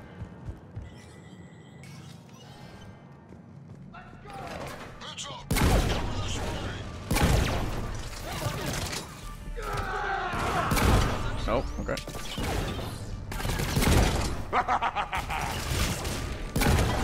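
Gunfire in Mass Effect 3, arriving as bursts of sharp shots and heavy thuds that start quietly, then turn loud and dense for most of the stretch, mixed with explosions and someone talking over the combat.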